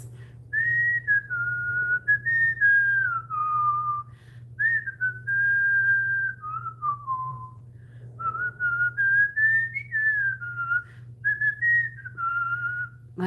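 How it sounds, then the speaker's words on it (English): A melodic whistled tune, clear and close, in wavering phrases with brief pauses, over a steady low hum. "My whistling is good tonight."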